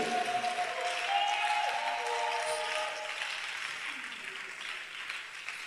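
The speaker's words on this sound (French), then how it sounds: "lève-toi, acclame bien fort ton Dieu." A church congregation applauds and cheers during a sermon, a dense, sustained wash of clapping and voices that fades slightly toward the end, with shouted and sung voices mixed in.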